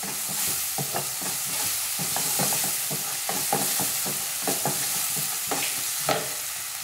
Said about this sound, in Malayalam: നന്നായിട്ട് തന്നെ ഒന്ന് ഇളക്കി കൊടുക്കാം.